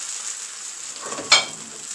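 A first crepe frying in a pan, giving a steady broadband sizzle throughout with a brief louder scrape or tap partway through, no voices present.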